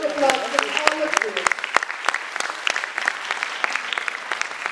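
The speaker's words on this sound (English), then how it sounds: "Can I have a big round of applause for all of" School moot court competition audience clapping for the finalists, a lively round of applause that starts alongside a speaking voice, then continues alone in sharp, scattered claps that slowly taper.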